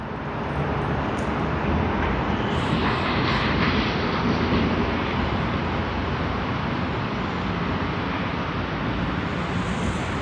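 Airliner landing at Sydney Airport after a flight from Singapore, a steady broadband engine roar filling the whole stretch at constant loudness, with no voices.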